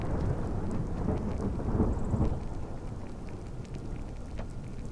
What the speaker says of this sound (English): Gods, this thunder!